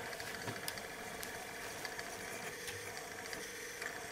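The motor of a Tesla B730 reel-to-reel tape recorder running, a faint steady mechanical hum with light ticking, heard alone and close up in a quiet room.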